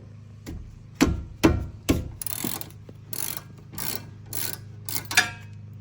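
Hand wrench ratcheting on the wheel studs and brakes of an NA Mazda Miata during a stud and brake pad swap, a run of clicking mechanical bursts and clunks, close and fairly loud, with no talk.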